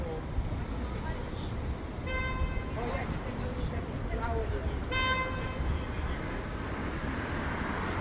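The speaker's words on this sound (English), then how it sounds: "A lot of people honking." Many car horns honking in cold, windy downtown Toronto traffic, several sustained toots rising out of steady, roaring street noise and wind, with people talking over the din.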